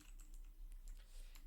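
Quiet typing on a computer keyboard while coding a React form, a brief run of soft, scattered keystrokes close by, no speech.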